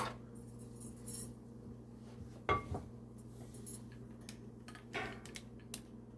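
A spoon clinks and scrapes against a bowl while mixing fritter batter for Caribbean saltfish accra, with flour and baking powder among the ingredients, giving scattered light metallic taps and stirring clatter, close and fairly quiet.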